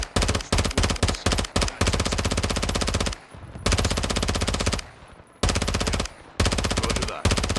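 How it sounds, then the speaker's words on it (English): Dense machine-gun and rifle fire from Call of Duty Modern Warfare 2, loud and close, in rapid bursts broken by a few brief pauses. "We're taking effective fire!"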